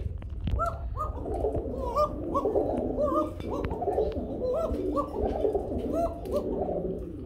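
Pigeons in a loft of breeding pairs coo repeatedly, a steady series of soft, throaty calls close by that continue throughout with overlapping voices from several birds.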